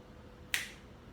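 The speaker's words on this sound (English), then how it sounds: "If I were to snap my fingers" A single sharp finger snap cracks once near the middle, bright and close, with quiet room tone around it.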